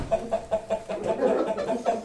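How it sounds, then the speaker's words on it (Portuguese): Confined hens and roosters clucking close by in short repeated bursts, a steady rhythm of hen and rooster calls with no talk. "conseguimos constatar vários galos e galinhas confinados"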